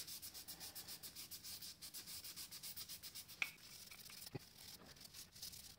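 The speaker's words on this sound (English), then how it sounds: "our trusty Scotch pad and we start rubbing, and you'll see the shine come up" A Scotch pad rubs the piston ring lands of a Peugeot 308 1.2 PureTech engine during a rebuild, making a quiet, steady, rhythmic scrubbing of quick back-and-forth strokes with a couple of small knocks, and no talk.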